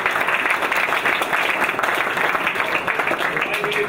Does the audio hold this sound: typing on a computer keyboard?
no